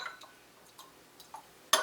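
A small utensil stirs a peppermint and cinnamon essential oil lip balm mixture in a little container, making a few faint, sparse clinks before one sharper, brighter clink at the end.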